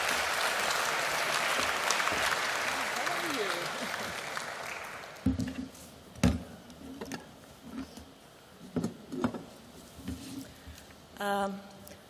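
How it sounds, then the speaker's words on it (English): Applause from the audience at a sustainability event, dense and sustained for about five seconds before dying away into scattered claps, shuffling and faint room noise. "A big applause for you."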